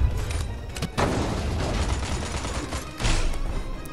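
Ion detonator explosions in Destroy All Humans 2 boom through dense, continuous game noise, with two heavy blasts landing about two seconds apart amid rumbling battle clatter.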